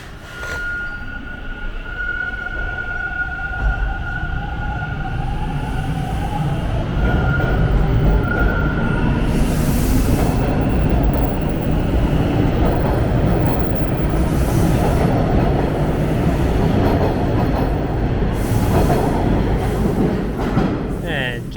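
A TTC subway train at Warden station in Toronto, with a long rumbling rush of rail noise and clatter building and staying loud through the platform, with faint squeals along the way.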